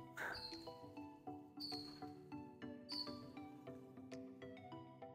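Small birds sing in a cloister garden of succulents, cacti, rosemary and roses with a fountain in Naples. Faint, quiet chirps and clear tonal notes repeat in short bursts.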